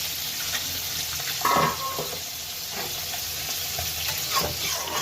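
Spinach curry with small fish, lentil dumplings and eggplant sizzles steadily in a pan while being stirred, a soft continuous frying hiss with a few faint scrapes, close and fairly quiet.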